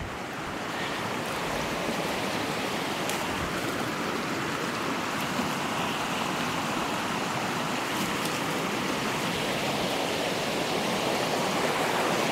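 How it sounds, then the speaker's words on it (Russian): A spring stream swollen with snowmelt rushes steadily, a dense, loud and unbroken roar of water with no voices over it. "ручей разлился"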